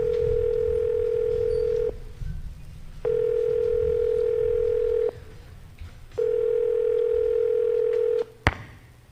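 Telephone ringing in an old radio drama: three long, even electronic ring tones separated by short pauses, followed by a sharp click as the call is picked up.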